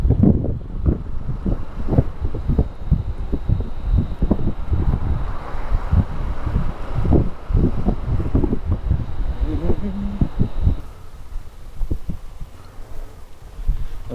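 A KTM Adventure 250 motorcycle on the move, with steady loud wind buffeting the microphone and engine rumble beneath, easing off toward the end.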